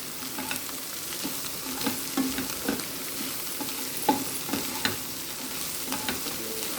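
A capsicum egg fry sizzles steadily on high heat as a spatula stirs and scrapes the pan in irregular knocks, close by and fairly loud, with no talking.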